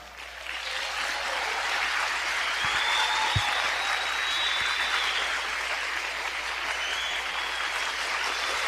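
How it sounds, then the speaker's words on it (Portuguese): A church congregation bursts into sustained applause, a dense, even wash of clapping from many hands lasting several seconds, filling the room with no clear speech above it. "Pode aplaudir Jesus."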